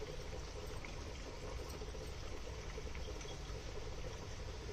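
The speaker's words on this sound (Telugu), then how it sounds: "దీంట్లోనే ఈ కప్పుతో వాటర్ వేసుకుంటాను." Water pours steadily from a cup into a pot of boiling dal, a soft continuous rushing splash with no pauses, fairly quiet and heard alone.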